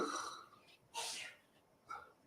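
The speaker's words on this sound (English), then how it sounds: "That was wife sneezing." A woman sneezes indoors, a sharp, fairly faint burst preceded by a breathy intake and followed by quieter breaths.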